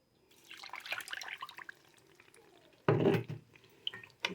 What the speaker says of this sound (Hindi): पानी डालेगा इसके अंदर।